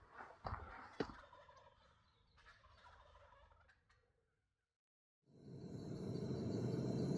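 Wild turkeys gobble in a few loud, rattling bursts early on in the Manzano Mountains, then fade out; after a short silence, a steady broadband roar of nearby noise begins.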